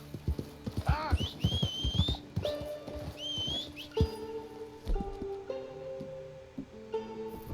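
A horse in the Red Dead Redemption 2 video game clip-clops at a steady walk, with whinnying calls and whistle-like sounds early on, and a brief mutter from a player.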